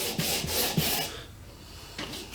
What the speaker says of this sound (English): we'll just get to sanding now